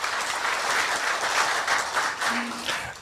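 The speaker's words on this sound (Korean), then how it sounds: "박수 한번 부탁드릴까요?" An audience at a university forum on a biomedical cluster gives a sustained round of applause, a dense, even wash of many hands clapping without a break.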